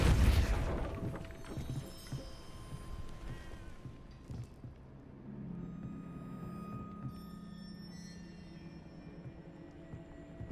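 Depulso spell cast in the Hogwarts Legacy video game at a gatehouse, a loud burst at the start that fades into a low rumbling ambience with faint chimes and later a rising hum, no voices.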